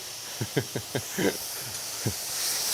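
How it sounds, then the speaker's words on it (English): White wine splashes into a hot pan in a home kitchen, setting off a string of sharp sizzling pops followed by a steady steam hiss that fades as the liquid cooks off, close and clear without talk. "I'm just going to add a little bit to the pan, create some steam"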